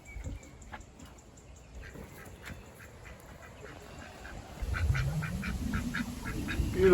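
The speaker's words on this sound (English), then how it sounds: "Beautiful looking ducks." Ducks heard in the Australian bush, with faint repeated calls over soft outdoor ambience that grows louder and busier toward the end, no talking.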